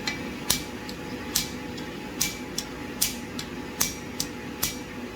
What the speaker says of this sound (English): I'm going to hammer the that thing a little down